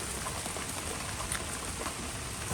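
Steady rain falling and pattering on surfaces nearby, a continuous dense hiss with no voices.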